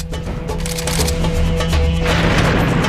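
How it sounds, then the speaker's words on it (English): A portable cannon fires in the video game Serious Sam 3, with a series of loud booming cracks in quick succession, close and heavy, followed by a rumbling explosion, with no talking. "Ain't nothing says stopping power like a portable cannon."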